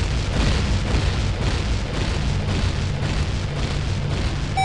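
Bomb flowers detonating together in The Legend of Zelda: Ocarina of Time, a dense, continuous rumbling boom that stays loud and steady throughout with no voices.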